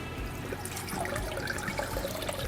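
Brine drips and trickles off a turkey after four hours of brining, a steady liquid patter with small splashes, close and fairly quiet with no talking.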